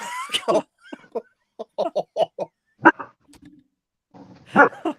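A dog lets out a handful of short, sparse barks and yips close by, with pauses between them and a louder burst at the end.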